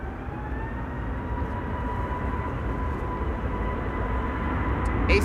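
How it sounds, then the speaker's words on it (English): KLM Airbus A321neo jet bound for Athens at Amsterdam Schiphol Airport, a faint distant engine roar with a thin steady whine that slowly swells in loudness, no one speaking. "A321neo to Athens, KLM flight"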